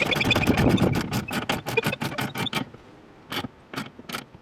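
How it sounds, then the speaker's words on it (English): A ratchet or wrench tightening 15mm nuts, a fast run of sharp metallic clicks that slows into a few spaced ticks and then stops, close and fairly loud. "So now I'm putting the 15mm nuts, I'm tightening those."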